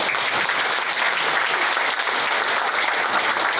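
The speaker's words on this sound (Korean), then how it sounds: "박수 한번 쳐드릴까요?" A room of attendees at a community policy meeting in Washington, DC claps in a loud, dense, even burst of applause that stays constant throughout.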